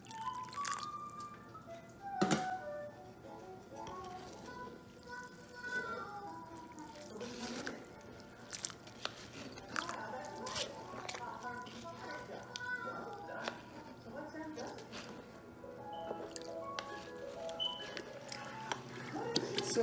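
Parboiled long grain rice being washed in water, with close splashes, drips and sloshing in irregular bursts. A person talks over part of it.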